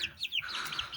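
Chicken chicks, six of them, clucking and chirping in short high calls over about a second, close by with a faint background murmur.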